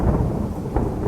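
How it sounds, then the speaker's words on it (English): Thunder from lightning during a rain day in Cambodia rumbles low and heavy over steady rain, loud and close for a brief moment, without any speech. "That sound there, that's lightning."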